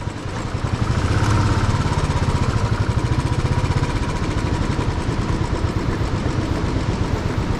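A rock drill runs at a roadside work site on a mountain road, a loud, steady, rapid hammering engine drone that holds constant throughout, with no voices.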